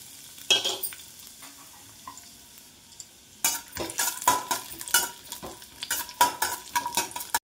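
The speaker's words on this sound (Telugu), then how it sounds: "నెయ్యి వేడైన తర్వాత ముందే కట్ చేసి పెట్టుకున్న బాదం వేయించుకోవాలి." Chopped almonds fry in hot ghee in a pan, giving a soft sizzle under repeated close spoon scrapes and clinks against the metal, quiet at first and then busier stirring.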